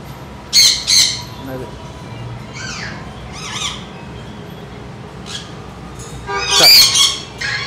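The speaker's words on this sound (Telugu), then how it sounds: "బర్డ్స్ అయితే ఇలా చాలా బర్డ్స్ ఉంటాయి" Birds in a pet shop, including hand-tamed cockatiels, give loud, harsh squawks and shrill calls in separate bursts. Two sharp calls come early, a few softer ones follow mid-way, and a loud cluster comes near the end over a low room hum.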